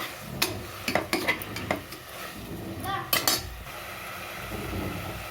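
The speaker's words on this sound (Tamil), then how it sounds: "புதினா மல்லியில் போட்டுக்கோங்க நல்லா வதக்கி விட்டுக்கோங்க" A spoon scrapes and clinks against a pot as onions, mint and coriander are stirred and sautéed for chicken biryani, with a soft sizzle running steadily underneath.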